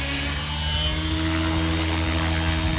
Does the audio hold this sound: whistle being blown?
no